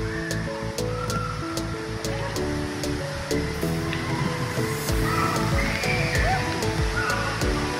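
Water pours and splashes heavily in a continuous rushing cascade from pulled hanging ropes at a water park in Ottawa, with voices and faint shouts mixed in the background.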